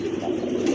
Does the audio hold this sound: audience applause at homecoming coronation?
no